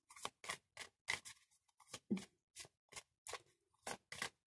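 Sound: shuffling Rider Waite tarot cards

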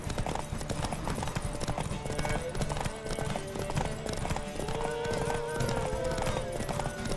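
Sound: Roach the horse galloping in a race, video game The Witcher 3

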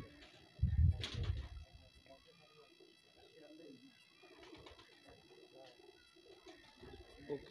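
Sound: pigeons cooing

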